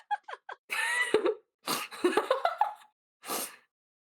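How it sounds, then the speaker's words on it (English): A few quick sharp bursts, then two louder explosive sneeze-like blasts and one final short burst, close and abrupt with brief silences between. "They sneeze so big."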